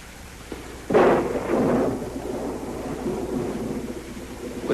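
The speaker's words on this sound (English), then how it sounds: "Looks like the storm's getting worse." A thunderstorm rumbles as a near thunderclap cracks and rolls on, with steady rain hissing underneath before fading into a low drumming wash.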